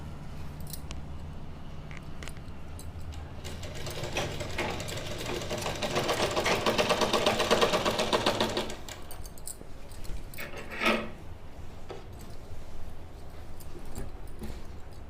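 A sewing machine stitches the hip seam of a kurti with a continuous mechanical whir that swells and peaks midway, then drops back to a lower steady hum with small clicks. The machine is close, and no one talks.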